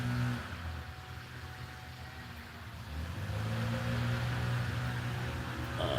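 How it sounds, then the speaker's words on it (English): A leaf blower drones steadily across the street, its motor swelling a little louder partway through. "That guy's still across the street blowing off the yard in the driveway."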